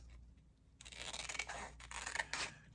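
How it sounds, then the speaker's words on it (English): Scissors cutting straight across a piece of orange paper, a quiet start, then a close, continuous crisp snipping and rasping that pulses with each blade stroke, no talk. "I'm going to try to cut it straight across there so that it ends at the end of the page"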